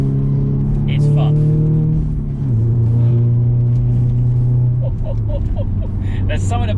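A manual Audi S3 engine hums steadily under cabin noise, its pitch dropping at an upshift partway through, then settling to a new steady drone.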